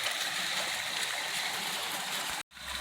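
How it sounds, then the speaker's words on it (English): A waterfall roughly 35 to 40 feet tall pours steadily into a pool on rural property in Arkansas, a constant broadband rush that cuts off abruptly near the end. "Beautiful waterfall."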